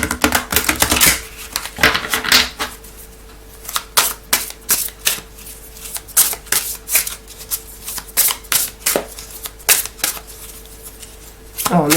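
Oracle cards being shuffled and drawn during a spiritual guidance reading, giving repeated crisp riffling and flicking bursts in an irregular rhythm, close and fairly loud, with no talk over them.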